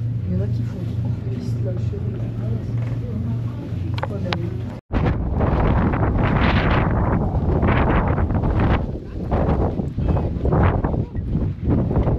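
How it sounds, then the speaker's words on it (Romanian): Strong mountain wind at Zermatt roars and buffets the microphone in heavy, continuous gusts after a calmer opening, loud and close, with people talking under it. "Pe vântul ăsta, nu?"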